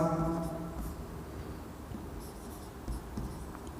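Chalk or marker scratching steadily across a board, a continuous faint scraping under a low background hum, with no talk.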